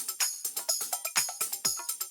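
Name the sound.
layered percussion loops: perc, tambourine and hi-hat loops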